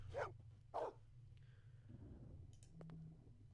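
A dog in the video game Blade Runner (1997) gives two short, distinct barks close up, followed by quieter clicks and faint background tones.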